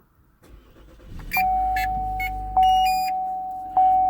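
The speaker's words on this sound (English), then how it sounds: "Start the car." A Chevy car engine cranks and catches, settling into a low idle while a series of electronic chimes and beeps ring out.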